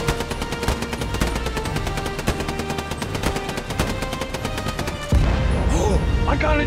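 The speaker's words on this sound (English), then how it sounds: "you'll light him up with machine gun fire, Richard." Rapid machine gun fire in a shooter game, a dense stream of cracking shots for about five seconds, then a deeper rumbling blast with debris, all loud and under a busy mix of game sounds.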